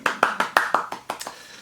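A hand clap stands in for a film clapperboard, repeated as about seven sharp, close claps in an uneven rhythm, each ringing briefly before the next.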